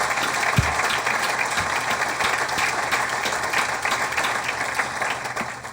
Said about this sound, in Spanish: Aplauso a Ruiz González Pérez.